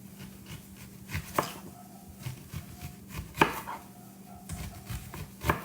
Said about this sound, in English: the recipe calls for cutting the red onion into thick rings